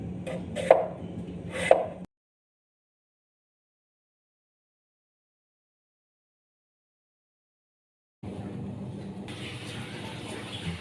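Young papaya being chopped with a knife, a few sharp cuts in the first two seconds, then a long silent gap before a denser stretch of cutting resumes near the end.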